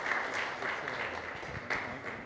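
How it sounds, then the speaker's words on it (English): An audience at a cricket T20 World Cup trophy launch event claps steadily, a dense patter of many hands sustained across the whole stretch at moderate distance. "So a big cheer for Sakshi TV."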